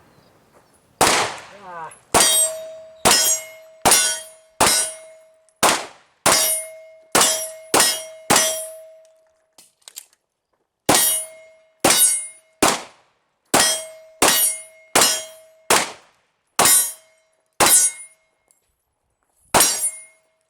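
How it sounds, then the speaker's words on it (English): Pistol shots, Glock 34 Gen 5 or Sig P320 X5, fired while moving at steel silhouette targets: two long strings of sharp cracks, each followed by a ringing clang of steel, loud and close with short pauses between shots. "we're going to be shooting at the silhouette while moving"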